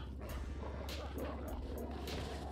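Chop, the dog in GTA 5 Online, barking and yipping in a steady series of short barks, heard under continuous game sound and voices in the background.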